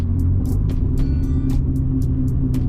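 A car engine fitted with a bypass or aftermarket exhaust, driven along a country B road, gives a steady low rumble with a continuous drone, near and loud, with short rhythmic ticks above it and no talk.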